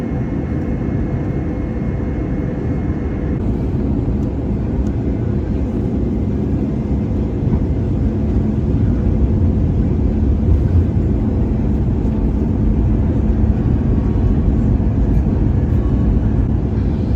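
Inside the cabin of an Iberia A320 airliner on landing approach, a loud, steady low engine and airflow rumble fills the space continuously, with a faint tone early on and no voices.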